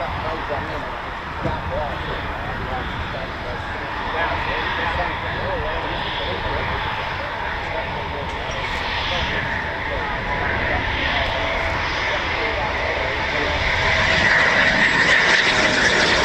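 An RAF Typhoon FGR4 fighter jet landing with aero braking at RAF Coningsby, a steady broadband engine roar that holds throughout and swells slightly louder toward the end, with no other sounds standing out.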